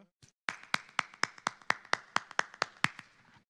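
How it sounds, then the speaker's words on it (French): Steady hand clapping, about a dozen sharp claps in an even rhythm, close and fairly loud, with no voices. "Applaudissons le Seigneur."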